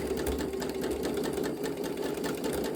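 A sewing machine stitches fabric scrap hearts, running steadily and close with a fast, even mechanical whir throughout and no talk.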